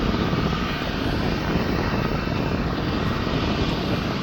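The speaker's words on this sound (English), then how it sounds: "This is an A220-300." An Airbus A220-300 at Birmingham airport gives off a loud, steady jet engine roar that holds evenly from start to finish, with no talk over it.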